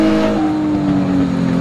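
A race car engine drones loudly and close as it accelerates hard up a steep uphill stretch of a race track, with a steady, rising pitch held over a short burst.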